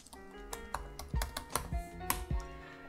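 Keys clatter on a computer keyboard as a short command is entered on a Raspberry Pi setup, a quick run of close, crisp clicks with a few heavier strokes and no talking.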